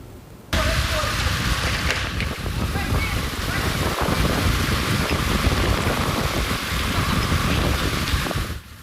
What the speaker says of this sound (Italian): Pioggia battente, forti raffiche di vento si sono abbattute violentemente sul veneziano nel primo pomeriggio.